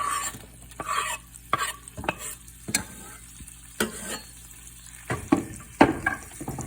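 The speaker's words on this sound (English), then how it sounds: "Now that the oil is obviously sizzling," Meat and onions sizzle in hot oil in a pan while something stirs and scrapes against it in repeated sharp clatters, close and fairly loud.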